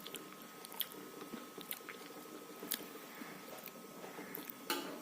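Close, quiet chewing and biting of freshly cooked maswadi, a Maharashtrian stuffed gram-flour roll, with small crunchy bites and soft mouth sounds at an irregular pace and no talk.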